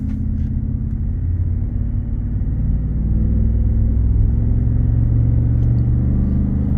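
Ford F-150 Lariat pickup with an aftermarket exhaust, heard from inside during a test drive as a steady deep rumble of the engine and exhaust at cruising speed, no talk.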